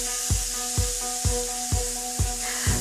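Rump steak sizzles in a hot pan with a steady, bright hiss, broken by soft regular thuds about every half second.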